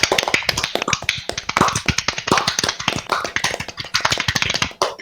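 A group claps rapidly and continuously at an event, with dense overlapping claps packed close together and keeping a busy, uneven rhythm from start to finish.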